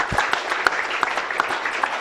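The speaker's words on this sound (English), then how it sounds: "And she deserves her own applause." Steady applause from a crowd, many hands clapping continuously at close range.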